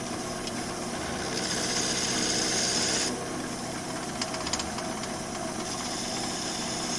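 A wood lathe spins at 400 RPM in a woodturning shop, giving a steady motor hum with a rasping, scraping rub of a tool against the turning wood, louder for a few seconds and then easing back.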